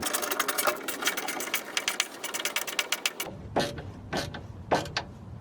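A wrench or ratchet tightens a bolt on a MillerCAT V1 catalytic converter shield under a Toyota RAV4 Prime, first as a fast run of ratcheting clicks, then a few separate metallic cranks, close by.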